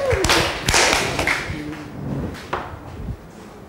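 A classroom of Grade 8 math students gives two rounds of clapping for a classmate, with sharp hand-clap bursts landing under a teacher's voice as talk continues.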